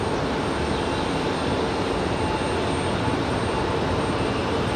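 A Southwest airliner departing Raleigh Durham airport, its engines giving a steady, broad roar that holds at an even level throughout.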